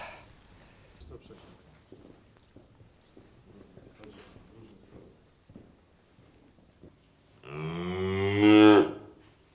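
A cow in a farm barn lets out one loud, close, drawn-out moo near the end, after several seconds of quiet shuffling and faint rustling.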